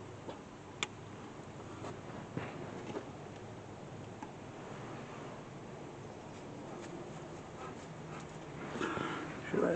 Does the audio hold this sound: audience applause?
no